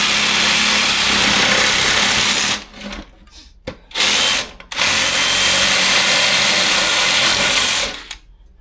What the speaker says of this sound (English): They're wobbling too much with the reciprocating saw.